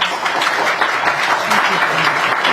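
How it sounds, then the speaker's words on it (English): At a forum, an audience gives a panel a short burst of hearty applause, a dense, even roar of clapping with a voice speaking over it. "Please give our panel a big round of applause."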